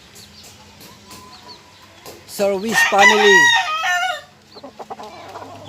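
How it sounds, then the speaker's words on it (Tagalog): A rooster in a backyard poultry pen crows loudly once, close by, after soft clucking, with brief faint speech at the start. "Ito yung manok."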